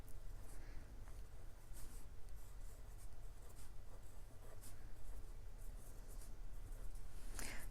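A marker squeaks and scratches across paper while heart-shaped sprinkles are drawn onto a donut picture, continuous close rubbing strokes with no talk.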